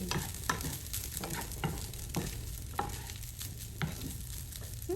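Rice frying with onion and garlic for sinangag, stirred in a pan with rhythmic scraping strokes about every half second over a soft, steady sizzle, close and fairly quiet, no talking.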